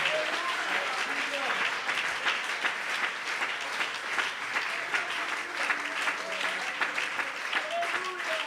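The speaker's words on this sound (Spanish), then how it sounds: "Quiere darle ese aplauso al Señor de gloria" Church congregation applauding during a sermon: a steady, sustained round of clapping from many people that continues for several seconds, with voices and shouts rising over it.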